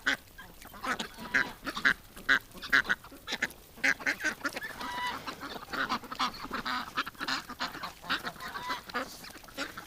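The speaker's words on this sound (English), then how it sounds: "Just listen to these ducks." Ducks and geese call repeatedly, a busy chorus of nasal quacks and honks overlapping in quick bursts, fairly close and lively throughout.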